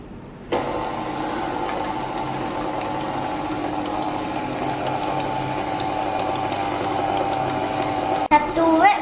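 An electric mixer on low speed whips cream for a cheesecake, starting abruptly and then holding a steady, even whir before cutting off with a short clatter.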